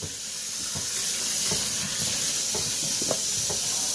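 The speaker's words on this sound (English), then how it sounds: "This is my orange water, so I could wash my hands." Water runs steadily from a tap while hands are washed in orange-infused water at a kitchen sink, a continuous close hiss with faint splashes and knocks, no talking.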